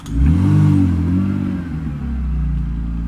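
A cheap BMW drift car's engine revs up and holds at a loud, steady pitch, then dips and climbs again, close by with no talking.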